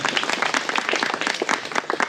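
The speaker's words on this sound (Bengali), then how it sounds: "আমরা হাততালি দিয়ে সম্মান জানাই তার সম্মতিকে" Wedding guests at a Garo wedding in Bangladesh clap their hands in a steady, dense burst of applause that carries on unbroken throughout, fairly close and with no talking over it.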